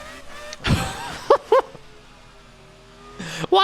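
An ordinary road car fitted with a Formula 1 V10 engine drives along, its high, harmonic engine note droning steadily, with a few short, sharp revving bursts standing out near the start and end.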